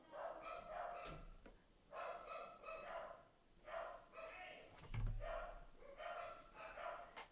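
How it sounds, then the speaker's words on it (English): Dogs bark in several clustered bursts of rapid, repeated barks with short pauses between them, moderately loud and close over about seven seconds. "You have angered my dogs."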